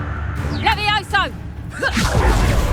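A whooshing magical spell effect sweeps through, cast as Levioso in the Hogwarts Legacy video game, with swishing, warbling tones followed by a rushing burst and rumble, while a character shouts over it.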